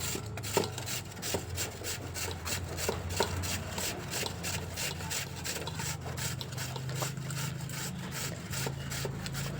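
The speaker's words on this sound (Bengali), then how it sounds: "এবার আলুগুলোকে গ্রেট করে নেব আলুগুলো আমি একটু বড় বড়ই রাখবো তার জন্য আমি বড় দিকটা করেই কষে নেব" Potatoes grated on the coarse side of a hand grater, a rapid regular series of rasping strokes, close and steady throughout, with no speech.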